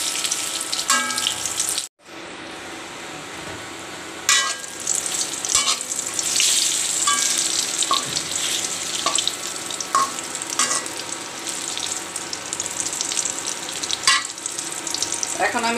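Slices of pointed gourd fry in a pan as they are turned: a steady, close hiss of hot oil with sharp spatula clicks and scrapes, broken by one brief pause, with no talking.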